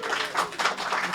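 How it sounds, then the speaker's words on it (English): A live audience at a comedy show applauds, a dense wash of clapping at steady loudness that swells slightly midway and carries on without a break. "A round of applause to you for that."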